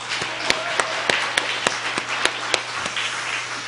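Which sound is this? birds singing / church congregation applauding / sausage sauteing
church congregation applauding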